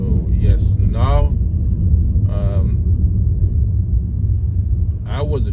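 A car driving along national route G220 in China, its low steady road and engine rumble running underneath someone talking.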